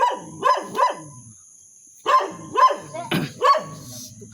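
A dog barks in short loud yaps, two quick barks, a pause, then a burst of four more close by, with no talk over them.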